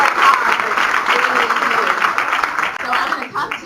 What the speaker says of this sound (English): Give these guys an applause